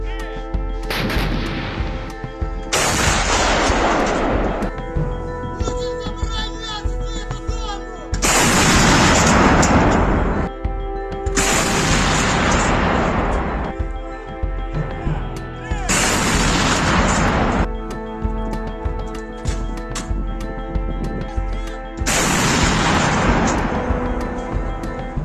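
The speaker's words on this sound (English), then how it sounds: "let's see the Ukrainian artillery which is firing at Russian invaders" Ukrainian artillery fires in a series of heavy, booming reports at roughly four-second intervals, each blast loud and close with a long rumbling tail, set against a continuous background.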